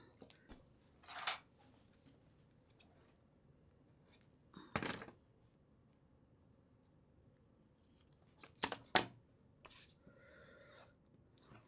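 Scissors snip through tape on paper in a few brief, separate bursts, close and crisp, with quiet pauses between the cuts.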